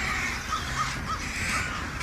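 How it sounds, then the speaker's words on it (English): A flock of crows caws repeatedly in overlapping, harsh calls, moderately near and steady throughout, with no voices. "But that's so many crows."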